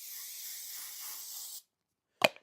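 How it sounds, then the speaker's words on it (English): Aerosol web spray, the tack adhesive used in screen printing, hisses close and steady for about a second and a half, then goes quiet, followed by a couple of sharp handling clicks. "We're going to hit it with some web spray."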